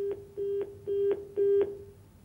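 A telephone dials during a call-in show, five evenly spaced, loud tonal beeps ringing in a steady rhythm, each short with a brief gap, then fading into quiet.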